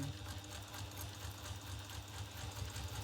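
A sewing machine runs steadily, top stitching a small crossbody bag just above the pocket, its even motor hum and rapid needle rhythm continuous and close throughout with no talk.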